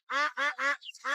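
Four sharp, nasal quacks from free-range local ducks raised on organic grain come in quick succession, loud and close, with a brief higher squeak between the third and fourth.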